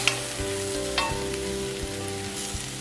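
Paprika and cumin sizzling in a hot pan for a red lentil and sweet potato soup, a steady close crackling hiss with a few soft stirring scrapes and no talk.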